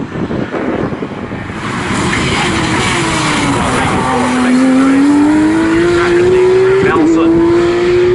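GT Cup Championship race cars, a red Ferrari among them, roar along the track with a loud, sustained engine drone whose rising whine climbs as a car closes in and passes nearby; a commentator talks over it.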